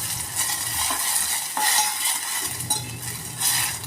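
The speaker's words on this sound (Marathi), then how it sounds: "टोमॅटो मऊ होईपर्यंत आपण परतून घेऊया।" Chopped tomato sautés with garlic in a pan for a fresh Bombay duck curry, a close, bubbly sizzle broken by spoon stirring and light metal clinks.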